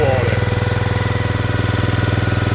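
A log splitter powered by a Predator engine idles close by, its steady rhythmic low chugging throbbing evenly throughout.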